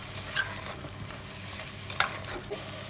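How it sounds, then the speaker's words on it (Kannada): Ground spices such as cumin and garam masala being stirred in a cooking pot, giving soft, steady scraping and faint sizzling close by, with brief sharper clinks of the spoon against the pot. "ಅದನ್ನು ಒಂದ್ಸಲ ಚೆನ್ನಾಗಿ ಮಿಕ್ಸ್ ಮಾಡ್ಕೊಳ್ಳೋಣ ಮಸಾಲೆ ಎಲ್ಲ"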